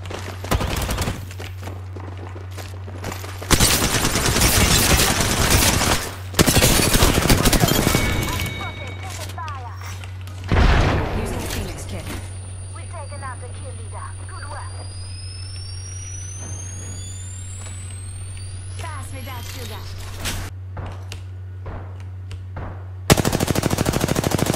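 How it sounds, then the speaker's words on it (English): Apex Legends gunfire in a public match, long loud bursts of rapid automatic fire broken by pauses, with later scattered single shots and a final burst, a steady game hum underneath. "Shot fired, and they're hitting me."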